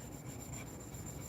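A wide chisel rubs back and forth on a whetstone in steady rhythmic strokes, a soft continuous scraping rasp close by.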